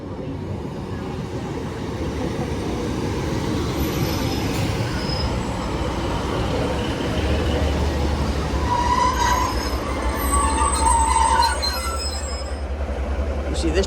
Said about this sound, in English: Train now departing is a 156 going to Liverpool Lime Street.